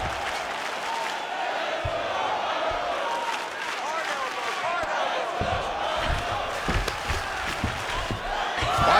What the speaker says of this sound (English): The crowd goes crazy because they appreciate it.